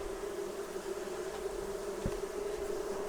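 Dense, steady buzzing of many honey bees close by at an open hive during honey harvest, a continuous drone with no voices.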